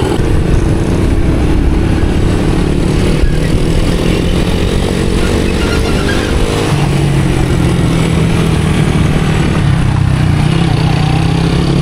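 A teacher's old motorcycle being ridden along a road toward tarmac, its engine droning loud and steady with a continuous rumble and wind noise the whole time, no one speaking.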